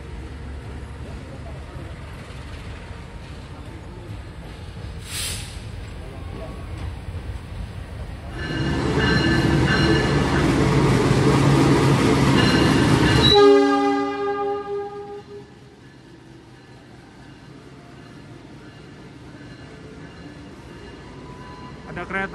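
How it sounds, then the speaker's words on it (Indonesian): The Gajayana passenger train from Malang to Gambir arrives at a station, announced by a loud horn blast, a rising rumble and then a long, steady horn tone as the train pulls in, with ambient noise throughout. "Ada kereta api Gajayana dari Malang tujuan Gambir baru tiba."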